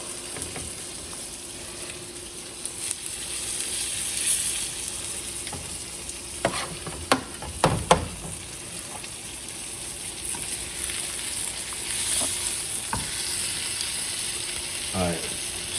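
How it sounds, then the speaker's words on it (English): Duck skin sizzles skin side down in hot duck fat in a pan, a steady crackling fry with a few sharper pops and clatters along the way. "Got that nice little sizzle going."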